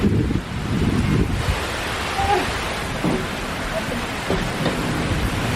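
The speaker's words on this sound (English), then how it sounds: "Oh, here comes the hail." Rain and hail pour down just outside the porch of a small house in Illinois during a storm, a steady, dense hiss with scattered soft impacts that stays constant throughout.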